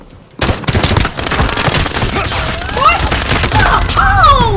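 Pistol gunfire in a video game rattles off as rapid, close, loud shots in a dense stream following a brief quiet start, with whistling tones and other game effects over the later shots.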